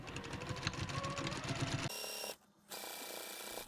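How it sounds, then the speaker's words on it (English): Sewing machine stitching binding onto a double-sided holiday placemat, a steady fast mechanical whirr that runs continuously, briefly stops, then resumes. "And then I'll just start sewing the next side."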